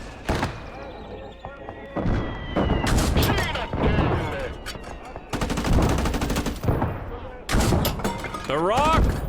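Rapid bursts of video game gunfire, loud and close, with machine-gun runs and heavy thuds between shots, while players shout over the shooting.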